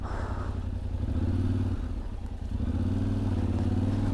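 A Yamaha Tenere 700 World Raid on Scorpion Rally tyres rides over slippery, muddy ground, with a close engine droning and revving steadily at moderate volume and a brief dip midway, with no voices.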